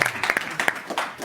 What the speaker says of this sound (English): If you would please, sir, give him a round of applause.